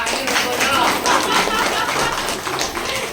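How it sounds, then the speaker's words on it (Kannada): A crowd claps for a student at a certificate ceremony, dense and steady applause lasting a few seconds, with voices mixed in. "ಏ ಜೋರ ಚಪ್ಪಾಳೆ ಕೊಟ್ರಪ್ಪ"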